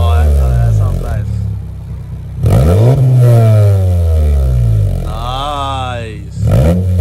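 A 10th gen Honda Civic fitted with an Invidia N1 exhaust revs repeatedly, the engine note climbing and falling in loud, close sweeps, while people talk excitedly over it.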